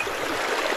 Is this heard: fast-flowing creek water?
yes